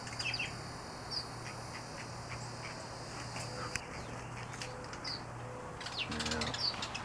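Sparrows and a white-crowned sparrow call from a jasmine plant on a spring morning, giving scattered short chirps and tweets, some near and some farther off, over a steady low background hum.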